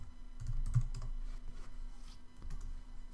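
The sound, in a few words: typing on a computer keyboard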